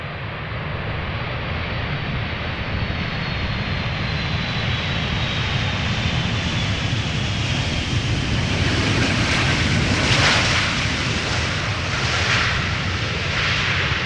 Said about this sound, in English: Last airplane of the day.